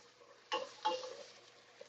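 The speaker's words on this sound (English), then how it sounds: "Give that a stir." A spoon stirs a creamy parmesan Italian sausage ditalini soup in a pot, with two short, soft scraping swishes close by against a quiet background.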